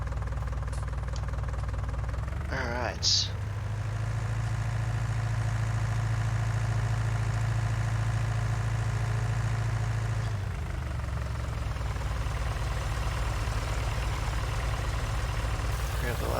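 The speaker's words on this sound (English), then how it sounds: "We'll do a bit of a drive-by with the tractor" A tractor engine idling in the Farming Simulator 19 video game, with a steady low diesel rumble running throughout, a brief click partway through, and a short spoken word over it.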